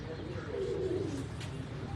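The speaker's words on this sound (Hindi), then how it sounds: "देखो कबूतर यहाँ से बाहर निकल आए हुए हैं" Pigeons cooing at a rooftop breeding setup after rain, a soft low rolling coo near the middle over a faint background hum, with no voices.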